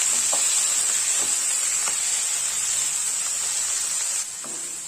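Large chopped tomatoes sautéing in a pan for chutney, a loud, continuous bright sizzle that runs steadily close up and eases slightly near the end.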